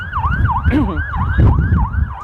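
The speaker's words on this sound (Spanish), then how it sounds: "En este momento hay unas sirenas que suenan aquí en Jerusalén" Emergency sirens wail in Jerusalem with a loud, rhythmic rising-and-falling tone, a second siren briefly overlapping over constant low traffic rumble.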